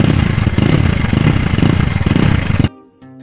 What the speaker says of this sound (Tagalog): Hindi ko nga alam kung aandar ba ang aking motor.